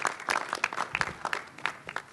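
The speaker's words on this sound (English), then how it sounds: "Let's give all of our past presidents a round of applause." Short burst of audience applause at an opening press conference for past presidents, fairly quiet, with scattered distinct claps rather than a dense roar.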